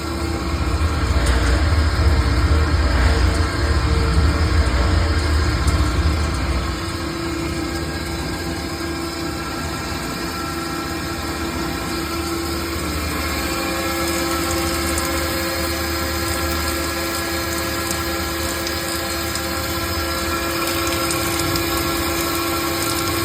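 A Dixie Model 6-6 in-line reclaim meat grinder running continuously, giving a steady motor drone and mechanical hum that is a little louder for the first few seconds and then settles into an even, unbroken run.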